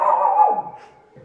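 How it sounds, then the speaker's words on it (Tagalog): A single short dog vocalisation, a drawn-out whining bark that falls in pitch, fairly close and loud, with no talk. "nagwawala yung kapitbahay ng mga aso"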